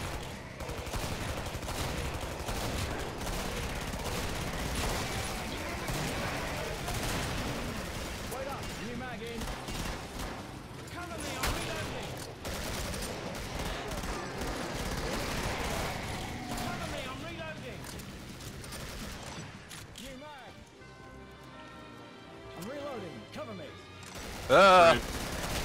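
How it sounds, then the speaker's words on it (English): Minigun fire in the co-op game Killing Floor, a sustained dense rattle of rapid shots with crashes and explosions mixed in, loud and continuous under excited players' voices calling out. "That's a minigun."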